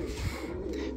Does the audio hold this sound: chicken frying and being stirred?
no